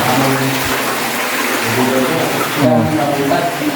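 Water rushes steadily through a cave passage, a loud continuous gush close by, with voices talking over it.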